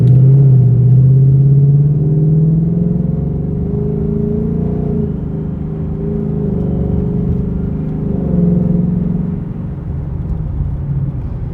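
A Ford Mustang Mach 1 with aftermarket headers drives along, its engine giving a continuous loud, close low rumble and drone inside the cabin that rises and falls gently with throttle, no talk.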